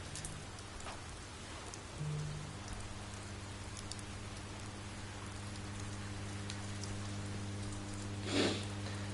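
Rain pours steadily in a rainstorm in the video game Oxenfree, a dense, even patter that runs throughout, with a faint low rumble near the end and no voices.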